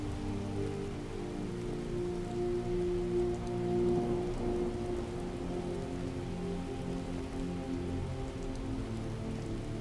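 Continuous rainfall in Skyrim at night, a steady even patter of rain on surfaces with a faint low rumble beneath, unbroken for the full stretch and free of any speech.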